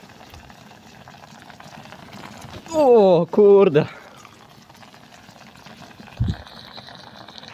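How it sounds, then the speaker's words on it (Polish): Water boils with a steady bubbling hiss. A voice briefly exclaims in the middle, and there is a short thump near the end. "Woda wrzy."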